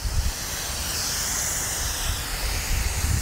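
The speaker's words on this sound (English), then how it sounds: "Nice misty spray." A sprayer hisses out a fine mist of acidic rinseless car wash, a steady broad hiss that holds at an even level for several seconds, with faint low rumbling underneath.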